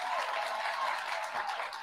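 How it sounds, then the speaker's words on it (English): Applause from a lecture audience at a university speaker series, a brief burst of dense, even clapping heard from a distance at fairly low level. "Let's give her one more round of applause."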